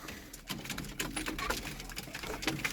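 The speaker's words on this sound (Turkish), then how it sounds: "İnşallah beğenmişsinizdir bu kuşlarımızı da." Çorum Çıplağı tumbler pigeons shuffle and flutter nearby in a loft, giving soft patters and wing rustles with faint cooing, and no talk over them.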